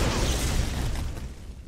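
Ion cannon blast in a multiplayer video game, a loud burst with a deep rumbling boom that decays over under two seconds.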